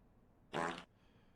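A single fart, short and fairly loud, a buzzy burst of about a third of a second rising out of near silence and fading quickly.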